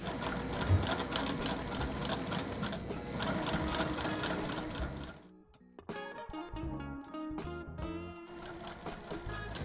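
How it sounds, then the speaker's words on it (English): Sewing machine stitching a quilt's binding, a fast, even mechanical rattle of the needle that runs steadily, stops briefly, then resumes with a slightly different rhythm. "we're going to keep on sewing"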